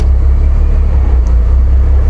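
A Bentley Continental GT, low on fuel with warning lights showing, idles with a loud, steady low engine rumble as it is put into gear, with no distinct clunk standing out.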